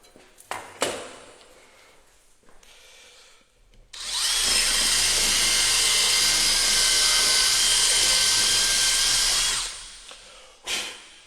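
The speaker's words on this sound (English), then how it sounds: "I'm going to drill this a little bit more." A power drill whirs loudly and steadily for several seconds while drilling a part for a homebrew pinball machine, preceded and followed by brief clicks and handling knocks.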